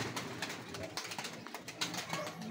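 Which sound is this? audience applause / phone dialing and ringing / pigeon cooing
pigeon cooing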